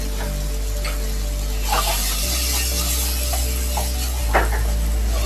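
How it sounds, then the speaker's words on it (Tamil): Mutton keema masala with turmeric, coriander powder, chilli powder and mutton masala sautéing in a pan, giving a steady hiss and sizzle with faint stirring scrapes. "பச்சை வாடை போற வரைக்கும் நம்ம கொஞ்சம் வதக்கிக்கலாம்"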